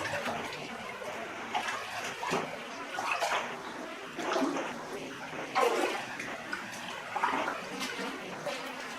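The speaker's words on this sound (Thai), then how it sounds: "มีน้ำไหลตลอดเวลา" Water runs steadily through a cave, a continuous rushing, splashing flow with louder surges. It stays close and moderately loud for the whole stretch with no speech over it.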